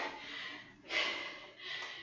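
Heavy breathing during a HIIT workout: close, breathy gasps and snort-like exhalations in quick succession, three noisy breaths over a quiet background, no talking.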